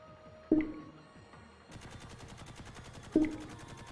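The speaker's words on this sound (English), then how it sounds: "Seems like we got a firefight." Gunfire from a firefight in a VR video game, with two sharp, loud shots standing out over a steady rattling, rapid background of distant fire.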